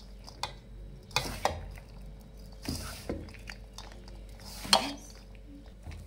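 A gujiya filling of jaggery and raisins is stirred and mixed in a pan, giving occasional sharp clinks and scrapes of a spoon against metal over a faint, steady background hum. No voices are present.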